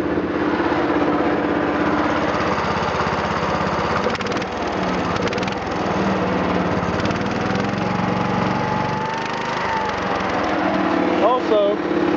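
A Massey Ferguson 14 garden tractor mower engine runs steadily and loudly after an air-assisted start, a dense continuous drone that holds throughout with only slight wavering and a brief squeal near the end.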